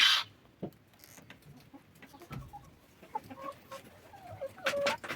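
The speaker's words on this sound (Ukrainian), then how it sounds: "Ну і ось курочка сіла вже курятничку у ящичок." A hen settles into a nesting box in a chicken coop, giving soft, intermittent clucks and short throaty calls, close and fairly quiet, with a louder squawk near the start and another at the end.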